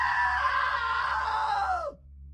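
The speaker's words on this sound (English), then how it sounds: "Now that was a great scream." A woman's long, sustained scream from What Remains of Edith Finch, loud and close, holding steady for nearly two seconds before sliding downward in pitch and cutting off abruptly.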